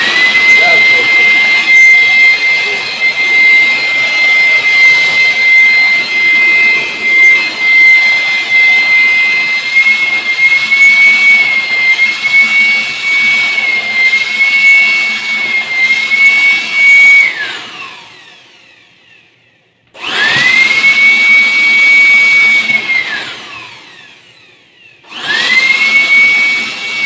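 An INGCO 400W aspirator blower runs as a vacuum cleaner, a loud steady high-pitched whine for about eighteen seconds, then cuts off and is restarted twice in shorter bursts, close and alone without speech.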